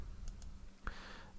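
A few isolated clicks of keys on a computer keyboard, faint and spaced apart over a low steady background hum.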